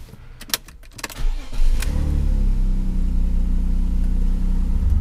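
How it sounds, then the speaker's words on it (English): After a few clicks and clunks, a BMW E46 engine starts and settles into a steady, loud drone as the car gets underway. "we need to go for a drive in the car"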